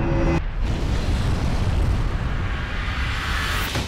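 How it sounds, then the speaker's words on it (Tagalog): Taal Volcano in a small eruption spewing ash from its crater: a loud, continuous low rumbling roar with a brief break early on, sustained and dense throughout. "Ang Bulkang Taal nagkaroon ng bahagyang pagputok o pagsabog at nagbuga ng abo mula sa bunganga nito."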